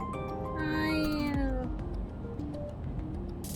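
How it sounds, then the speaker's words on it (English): A pet cat meows close by, one drawn-out rising and falling meow followed by a softer shorter call, clear against a quiet room hiss. "I'm glad I have my pet cat next to me for comfort reasons."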